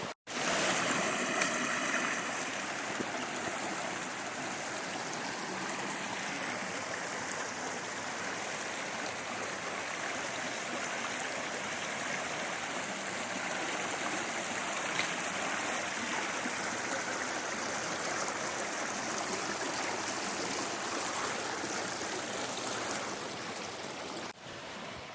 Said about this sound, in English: we followed this big old creek for quite a while now. This is what all the beautiful noise was.